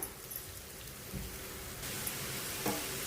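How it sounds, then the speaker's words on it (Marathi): Chopped onions sizzle in hot oil with curry leaves in a pan for an egg masala, a steady soft hiss of frying that lifts slightly partway through, with no talking. "आता कांदा आपण व्यवस्थित नरम होईपर्यंत फ्राय करून घेऊया"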